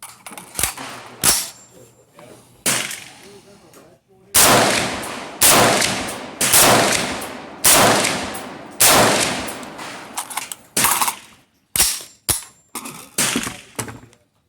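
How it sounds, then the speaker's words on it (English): An M-16 (AR-15) clone rifle firing on an outdoor range, sharp loud reports at irregular intervals, some single and some in quick pairs, each trailing into a ringing echo. "My M-16 clone in action on the range."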